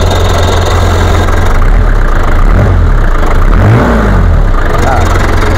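Diesel engine of a 2002 Daihatsu Taft 4x4 pickup idling warm, a loud steady low rumble with a slight rev swell midway, running continuously close by.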